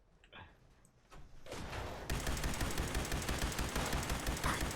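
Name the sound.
cars exploding in Fallout 76 video game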